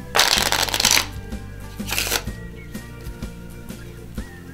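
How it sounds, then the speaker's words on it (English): Playing cards being shuffled in the hand, two bursts of riffling with quieter handling between, over soft background music. "An in-hand shuffle."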